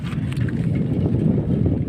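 Wind blows outdoors in a village, a close, low rumbling buffet across the microphone that surges and churns steadily through the short stretch.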